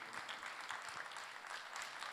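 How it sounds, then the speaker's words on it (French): An audience at an awards gala applauds a jury member, a cinema professor seated in the hall; the clapping is faint, distant and steady throughout. "On l'applaudit"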